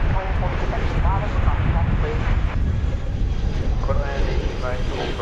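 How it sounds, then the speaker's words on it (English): An Airbus A321 touches down on runway 18 left at DFW Airport: a steady, loud jet roar with gusting wind noise runs through the whole stretch, and voices come through faintly underneath. "And here's an Airbus A321 touching down."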